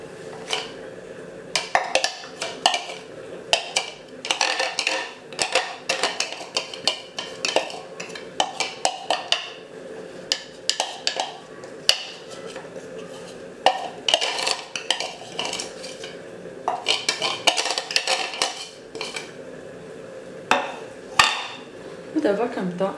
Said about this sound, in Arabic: دابا كنبدا نخلط على هذا الشكل هذا حتى كنمزج يعني الخليط الاول مع الخليط الثاني